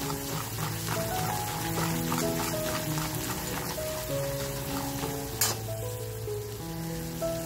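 A homemade masala sautés with onions in a pan for a spicy dried-fish dish, making a soft, continuous sizzle that sits beneath steady background music.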